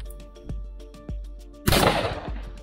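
A shotgun blast finishes off a wounded duck during a duck hunt on a pond in Taranaki, New Zealand: one sharp, loud report with a short rolling tail, following a few low thumps.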